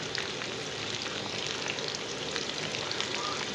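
French fries frying in a small amount of oil over high heat, a steady dense sizzle with fine crackling throughout, close and even.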